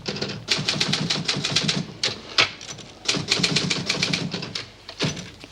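Rapid clattering keystrokes on a typewriter come in two long bursts broken by a brief pause, loud and close with crisp mechanical strikes and no talking over them.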